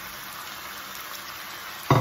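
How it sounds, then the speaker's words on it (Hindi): Masala frying in a pan for chicken jalfrezi, a steady close sizzle that surges louder near the end as already-fried vegetables are tipped in. "तो ये देखें ये अच्छे तरीके से भुन गया है मसाला, तो बस ये हम अपनी वेजिटेबल्स डाल देंगे इसमें जो हमने फ्राई की थी।"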